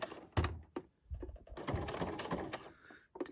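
A sewing machine fitted with a zipper foot stitches a lapped zipper close to a folded fabric edge in short bursts of rapid, close mechanical clatter, separated by brief pauses.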